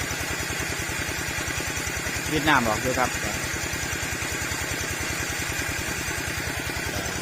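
Small walk-behind tractor engine chugging in a steady, rapid rhythm throughout at a freshwater prawn pond, with someone speaking briefly over it midway.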